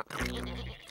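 A cartoon sheep gives one short, loud bleat on a farm, a single sustained nasal cry lasting under a second.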